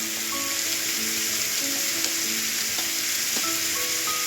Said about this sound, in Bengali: এবার এর মধ্যে আমি দেব হচ্ছে পেঁয়াজ কুচিগুলো।